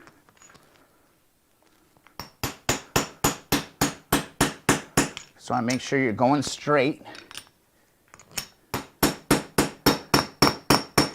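A hammer knocks a chilled bearing into a motorcycle wheel hub with rapid, even metallic blows in two long bursts, someone talking briefly between them.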